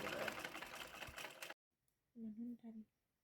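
A sewing machine runs fast, stitching red ribbon onto fabric for a traditional Ahom garment, a loud, close whir that cuts off sharply midway, followed by someone speaking.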